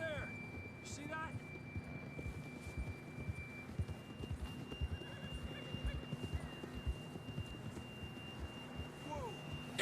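Horse in the Red Dead Redemption 2 video game, hooves clip-clopping steadily under a rainy ambience with a brief whinny, while voices talk over it.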